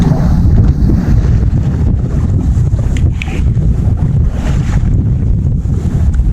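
Strong wind buffets a sailboat at sea near Cap d'Agde, a loud continuous rushing roar with low rumbling gusts and a hiss of water against the hull.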